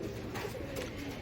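A Royal Teddy pigeon gives a soft, low coo, quiet and brief, with no voices.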